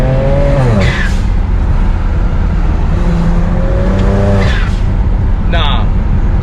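A modified BMW accelerates hard, its engine note climbing through repeated gear changes, each rise broken by a short drop. The car is loud and close, with tire noise and a brief squeal near the end.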